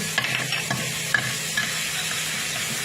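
Shrimp stir-frying with chili and garlic in a pan, a constant sizzling hiss broken by light clinks and scrapes of stirring.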